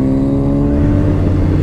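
A Suzuki GSXR1000 motorcycle accelerating hard in a low gear, its engine note loud and close, rising steadily through a short burst.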